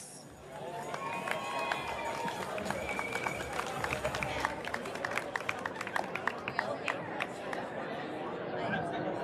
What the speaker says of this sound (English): Let's hear a round of applause for Northern Cass